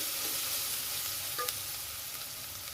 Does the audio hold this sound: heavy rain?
no